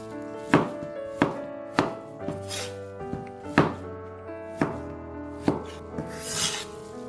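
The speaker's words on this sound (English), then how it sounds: "I'm cutting the potato into biggish pieces" A knife chops a big potato into large pieces on a board, giving about nine sharp, evenly spaced thuds over a faint ringing hum, close and clear with no talk.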